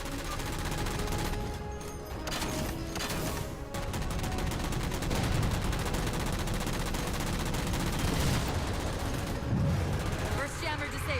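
Continuous gunfire from the Halo 4 video game fills the scene as jammers are shot down, with rapid bursts layered over game music and effects and a voice speaking at times.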